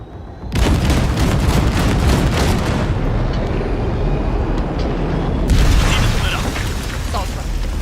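A massive explosion blows open a huge gate in Cyberpunk 2077. A sudden, loud blast gives way to a long rolling rumble, and a second burst of crashing debris follows a few seconds later.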